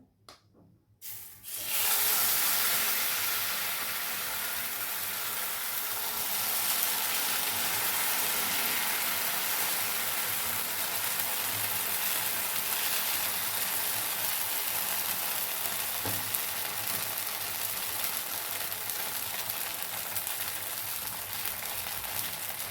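Semolina and poha batter fries in oil in a pan, a steady loud sizzle starting after a brief pause and continuing evenly with no speech.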